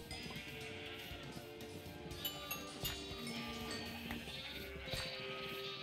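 Several video-game sheep bleat over a few seconds, repeated calls rising above a constant bed of ambient game noise, with no one speaking.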